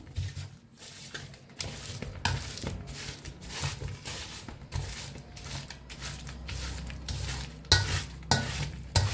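Bananas and jaggery being mashed in a pan with a potato masher: repeated irregular squelching thumps and scrapes over a faint sizzle, with occasional clinks of metal against the pan.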